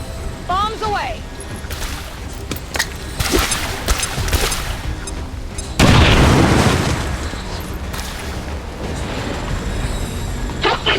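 Heavy bomb detonations from the XCOM 2 video game: a big broadband blast hits near the middle and rumbles on, with smaller bursts and pops before it and voices talking over the action.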